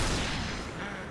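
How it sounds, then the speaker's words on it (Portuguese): Gunfire in the online shooter Point Blank, a dense continuous burst of rapid shots during a firefight, loud and close throughout. "muito tiro"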